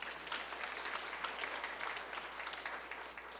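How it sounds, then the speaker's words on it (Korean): Continuous clapping from a church congregation greeting a new member at a praise service, thick and steady throughout before easing slightly at the very end. "성도님은 뜨거운 박수 부탁드립니다."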